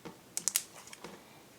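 Glossy neon-yellow slime gives a few quick, crisp clicks and crunches, three sharp pops close together followed by softer ones, heard close and alone in a quiet room.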